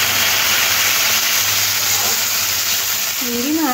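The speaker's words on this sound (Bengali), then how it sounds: "দিয়ে চিংড়ি মাছগুলো ভেজে নেব।" Prawns sizzling in a small amount of oil in a kadai, a dense steady hiss with a low hum underneath and a faint tonal warble near the end, close and continuous.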